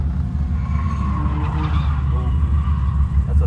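A $1000 BMW E36 drift car on a drift pass with tires pumped to 65, its engine roaring steadily with skidding tire noise over it, loud and close for a few seconds.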